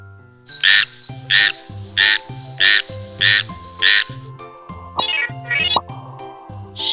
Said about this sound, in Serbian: žaba